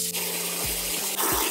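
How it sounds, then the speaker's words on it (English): Tap water runs steadily into a mop bucket with a cleaning solution added, as a hot-water fill is topped up for mopping laminate floors. The stream is close and continuous, with a couple of brief shifts in flow and no talk over it. "and then we're just gonna fill it up with water"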